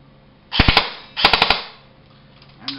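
Two short fully automatic bursts from a JG M733 Commando airsoft gun, each a rapid rattle of three or four snapping shots, close and loud, followed by a faint mechanical clack.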